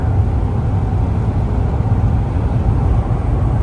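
A Vanagon Syncro van drives a winter road between Soldotna and Anchorage, a loud, steady low rumble of engine and road noise from inside the cabin, continuous and unchanging with no talk.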